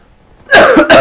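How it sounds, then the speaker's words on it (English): Two sharp, loud coughs close by, one right after the other, following a moment of quiet. "Man, I can't stop coughing."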